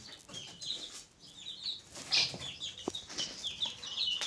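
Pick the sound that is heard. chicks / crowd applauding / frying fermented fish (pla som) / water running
chicks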